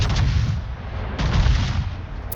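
Main battery guns firing on the warship Marco Polo in World of Warships, two heavy booming salvos with deep rumbling tails, loud and close.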